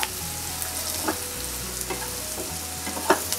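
Onions fry in a non-stick kadhai with a soft, steady sizzle. A spoon stirs them in a few scraping strokes, all fairly quiet and close.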